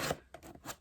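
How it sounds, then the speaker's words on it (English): Mini scissors snip and slice through a shipping package for a beauty-product unboxing, a few quick close-up cutting and rasping strokes in under a second, quiet and with no talking. "I'm going to cut it open with my mini scissors"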